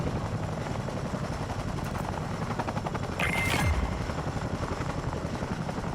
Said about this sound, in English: The chopper goes.